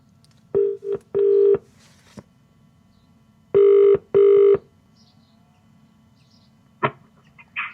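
Electronic telephone tones from an outgoing call through a Bluetooth adapter in a Jaguar XK8 sound in short paired bursts, separated by pauses over a low steady background hum, with a few faint clicks near the end.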